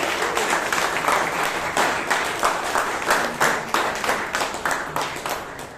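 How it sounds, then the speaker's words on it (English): Loud, sustained audience applause at a Toastmasters club meeting, with dense clapping filling the room and a few sharper claps standing out, holding steady throughout before easing slightly at the end. "Can we have a loud round of applause for each one of you?"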